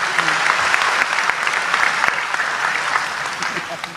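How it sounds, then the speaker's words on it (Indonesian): An audience at an Islamic religious study gathering breaks into sustained applause, dense and steady clapping that fills the hall for several seconds before tapering slightly. "Tepuk tangan untuk beliau, nggak apa-apa."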